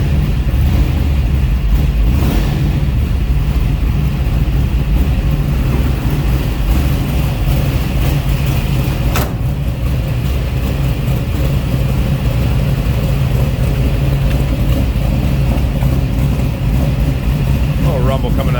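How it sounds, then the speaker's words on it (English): A 1965 Chevrolet Nova two-door hardtop with a 350 V8 idles steadily while warming up, a continuous low rumble that stays loud and even throughout, with no talk over it. "Little rumble coming out of that 350."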